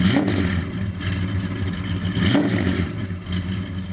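A 1969 Dodge Dart GT Sport replica's engine revs up close, a steady throaty rumble with rising and falling pitch sweeps as the throttle is blipped.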